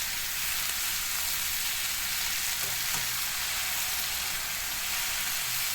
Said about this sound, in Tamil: லேசாக வதக்கினாலே போதும்.